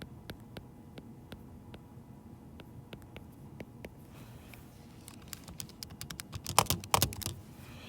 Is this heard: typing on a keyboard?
yes